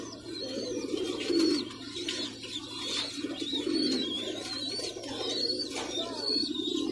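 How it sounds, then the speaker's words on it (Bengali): A pigeon coos repeatedly in low rolling phrases, close and steady, while thin higher chirps from other birds sound in the background over a constant faint hum. "এই যে আমার কবুতরটা"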